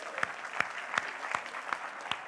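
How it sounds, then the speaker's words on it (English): An audience at an anniversary celebration event clapping for a volunteer, a broad wash of applause punctuated by six sharp, evenly spaced claps close by. "Let's clap for Shamir,"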